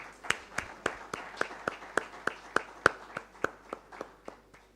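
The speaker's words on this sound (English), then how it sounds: "A big hand clap." A single person gives a slow, steady round of hand claps, about fifteen sharp evenly spaced claps, fairly near and alone, at an insurance brokers' conference session in Uganda.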